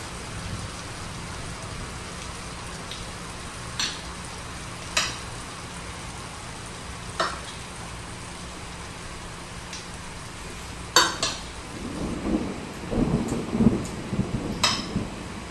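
Heavy rain pours steadily in the Philippines, a dense, even wash of drops with a few sharper splashes and knocks standing out and a busier patch of louder hits near the end.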